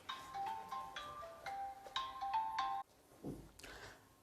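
A phone ringtone plays a bright repeating melodic pattern of electronic tones, fairly faint in a classroom setting, cutting off abruptly before a short burst of rustling or handling noise.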